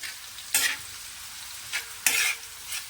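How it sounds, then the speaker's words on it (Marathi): Onion being stirred and sautéed on an iron tawa for dhaba-style egg tawa masala: a constant low sizzle broken by two loud scraping stirs and a couple of softer ones, with no voices. "कांदा चांगला परतून घ्यायचा आणि खरं सांगते लोखंडाच्या तव्यावर काय ना अंडा मसाला इतका टेस्टी लागतो"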